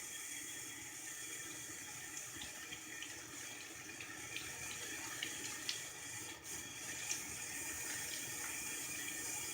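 A tap runs steadily while an oil control face mask is rinsed off, a continuous soft hiss of flowing water with faint splashes, quiet and unbroken, with no speech.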